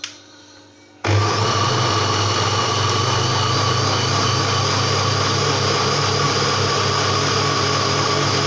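An electric blender switches on after a second of quiet and grinds cooled cooked apples for juice, a loud steady high whirring drone that runs unbroken to the end with no talking.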